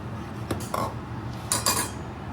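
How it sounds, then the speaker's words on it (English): A metal lid is set back onto a pot of Korean pork rice soup, giving two quick clattering clinks close by over a quiet background hum. "Now I'm just gonna put the lid back on and let it boil"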